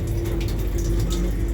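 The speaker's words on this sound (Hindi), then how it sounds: "पानी ये बहे ही जा रहा है" A tap in the bathroom of the Patna Ahmedabad Express train runs without stopping, a continuous splashing flow of water over a low, steady train hum.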